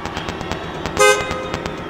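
A short, loud car horn honk cuts through driving electronic music at a DJ set in Breves, Marajó, one blast midway over a steady beat.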